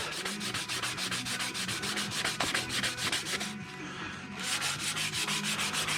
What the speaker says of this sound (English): So just gonna sand away at them a little bit here, just to give it that effect.